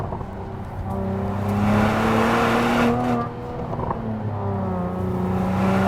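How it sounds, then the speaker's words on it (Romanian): A Mercedes-AMG GLE 53 accelerates hard, its engine note climbing through the gears with a rising, droning exhaust tone, a brief dip at a shift, then pulling loud and close again. "Sunetul și pocniturile pe care le faci atunci când mergi ceva mai tare"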